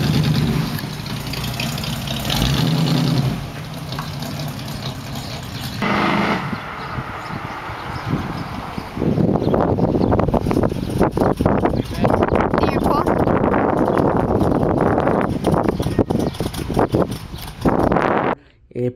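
A 1978 Chevrolet Monte Carlo G-body with a rebuilt engine that has sat unused for a very long time cranks and catches, then runs loud and rough near the microphone for several seconds before cutting off at the end.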